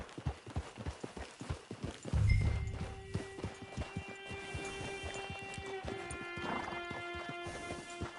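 Horse hooves clip-clopping at a walking pace in Red Dead Redemption 2 near a camp, steady close hoofbeats with a brief snort or whinny, game music tones sustained in the background.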